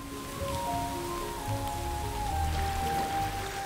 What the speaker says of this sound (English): The water comes down in buckets.